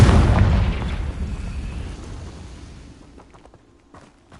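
A Confringo spell blast in Hogwarts Legacy booms loudly at the start, then its deep rumble slowly fades over several seconds, with a few faint pops near the end.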